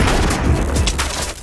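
Shotgun fire in a VR arena battle game, several sharp blasts in quick succession, loud and close over a noisy background.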